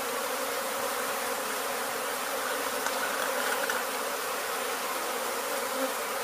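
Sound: honey bee swarm buzzing

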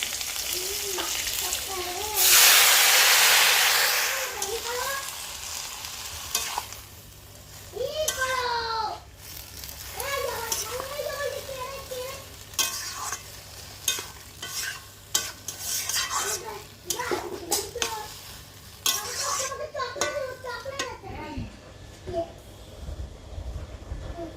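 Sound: greens cooking with garlic, green chili and panch phoron tempering

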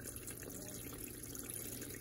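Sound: water filling Brastemp Eggo mini washing machine for final rinse

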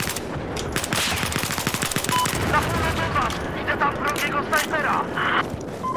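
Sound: gunfire in video game Battlefield 4

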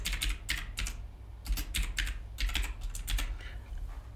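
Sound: typing text on a computer keyboard in Microsoft Word

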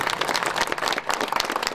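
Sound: applause for Aunt Arife

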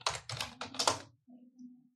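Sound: typing on a computer keyboard

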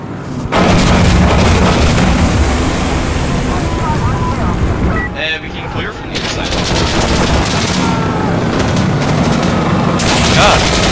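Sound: rockets exploding and gunfire from video game

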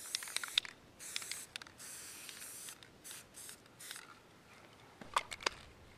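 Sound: spray painting a deer skull with spray paint

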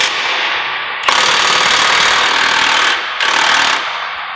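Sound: loosening a bolt with a 1⅛ wrench

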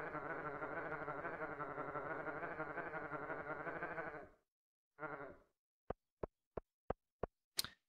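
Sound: camel in Stardew Valley horror mod, video game

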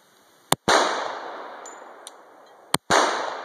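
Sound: Glock 41 pistol gunshots

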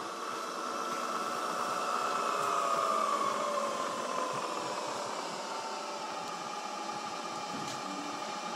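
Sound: Bridgeport EZ Trak milling machine running in low gear

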